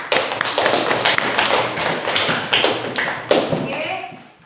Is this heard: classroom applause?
yes